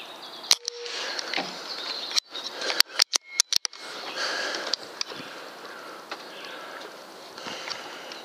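A pump air rifle, charged with 120 pumps, is fired outdoors through a hole in a fence. A few sharp, close snaps and clicks cut through a steady background of buzzing insects.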